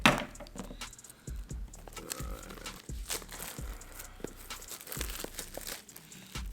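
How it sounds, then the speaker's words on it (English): StyleCraft Uno shaver packaging being cut and pulled open up close, with irregular crinkling plastic, tearing and crisp cracking handling noises in quick bursts, fairly faint and without talk. "Let me cut this open and see what it's like."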